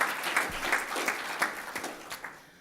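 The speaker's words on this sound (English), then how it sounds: "Another round of applause." Brief, fairly quiet applause from a symposium audience, a soft spread of clapping hands with a few sharper claps standing out, tapering off within a few seconds.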